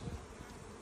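Honeybees flying around a nuc hive during an inspection, a faint close buzzing drone with a brief louder pass at the start.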